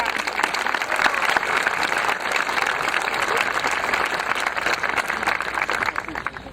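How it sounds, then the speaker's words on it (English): Crowd applause for senior athletes at a 2019 high school graduation ceremony, a dense, sustained clapping from a large audience that fades slightly at the end. "A round of applause for our fantastic senior athletes."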